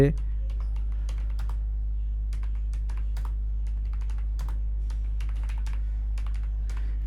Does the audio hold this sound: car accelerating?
no